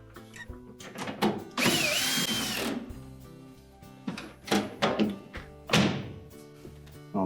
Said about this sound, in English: all we have to do is secure it with the screws